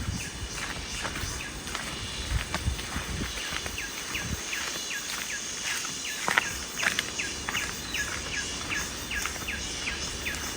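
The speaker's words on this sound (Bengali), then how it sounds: "একটা না কিছু পোকা আর পাখির ডাক পাচ্ছিলাম" Insects and birds call in dense forest near a waterfall, a faint continuous shrill insect drone with scattered short chirps and calls over a soft background wash, no talk.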